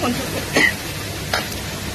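Sliced vegetables for street-style noodles are tossed and stirred in a hot pan, giving a soft continuous sizzle broken by two brief scraping strokes, while a person talks over it.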